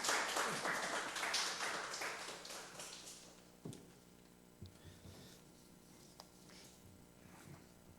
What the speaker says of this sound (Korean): 우리 나오실 때 박수 한번 할까요?